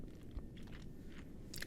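Crunchy seasoned food being chewed close to the mic in a sci-fi roleplay setting, with steady, dense mastication noise and a few sharper crunches near the end, no talking.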